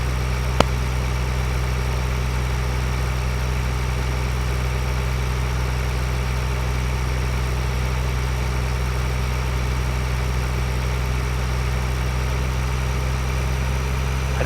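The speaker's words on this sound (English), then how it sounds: "So, drive our tractor down to the driving." Tractor engine idles steadily in a farming video game, a constant low mechanical drone with an even hum and no change in pitch throughout, loud and close with no talk.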